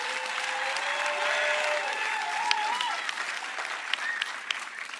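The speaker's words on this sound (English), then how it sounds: "Give yourself a round of applause." Applause from a fire rescue academy graduating class, Class 117, filling a hall with dense, steady clapping and scattered whoops across the whole stretch, a few voices rising above the crowd noise.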